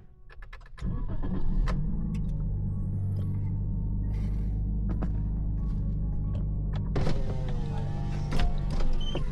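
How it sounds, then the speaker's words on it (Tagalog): A car's engine starts and then idles with a steady low rumble, nearby and fairly loud, with a few clicks and knocks over it as the driver gets ready to back the car up in a yard. "Atras ko lang yung sasakyan"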